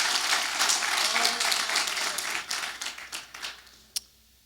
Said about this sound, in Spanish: Dele un aplauso al Señor con alegría